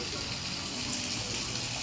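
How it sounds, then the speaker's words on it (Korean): Artificial waterfall pouring diagonally over rocks from a building at the Spanish village on Ganghwa Island, a steady broadband rush of falling water that fills the short stretch at an even, continuous level. "저 위에 건물에서부터 아래쪽으로 이렇게 뚫려 있고 사선으로 이렇게 폭포 같은 게 바위 위를 흐르고 있네요"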